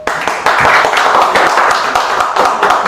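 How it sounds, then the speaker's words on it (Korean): Brisk audience applause welcoming a lecturer, dense close hand claps sustained throughout at steady loudness. "박수로 환영합니다."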